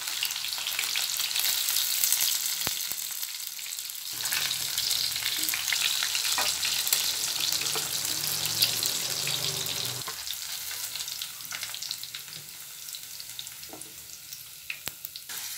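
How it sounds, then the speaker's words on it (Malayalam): Tuna pieces frying in oil for a pickle crackle and sizzle steadily close by, with stirring noises mixed in and a slight easing toward the end; no one speaks. "എല്ലാ മീനും നമുക്ക് വേഗം വറുത്തെടുക്കാം"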